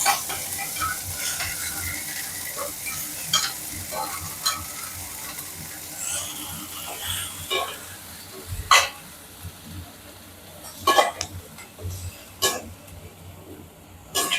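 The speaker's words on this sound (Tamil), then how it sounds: "இப்போ வந்து கொஞ்சம் எண்ணெய் ஊற்றிக்குவோம் வந்து காலிஃப்ளவரையும் ப்ராக்கோலியும் போட்டு வதக்கிக்குவோம்" Cauliflower and broccoli sautéing in oil in a home kitchen, a soft steady sizzle with scattered scraping stir strokes and light utensil clicks, close and fairly quiet.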